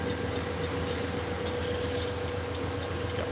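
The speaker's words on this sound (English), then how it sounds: "We got a busy station tonight here. Busy train tonight." A train at a busy station at night gives off a steady, moderately quiet rumble and hum, with no distinct events standing out.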